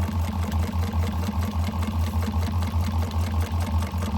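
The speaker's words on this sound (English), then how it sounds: "Make sure you back stitch, especially where that corner is" A sewing machine hums steadily and close by while back stitching a candy bag pocket, with a continuous low motor drone and rhythmic needle pulsing.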